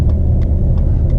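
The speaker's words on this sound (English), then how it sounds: "Why is there so much traffic?" Steady car traffic rumbles close by from inside a vehicle stuck in a congested lane, a continuous low engine and road drone holding at the same level with no talking.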